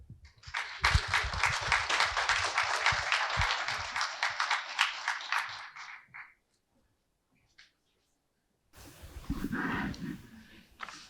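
An audience at an evening talk applauds to welcome a guest physicist. Dense, lively clapping lasts about six seconds before fading into quiet, and then a voice begins to speak.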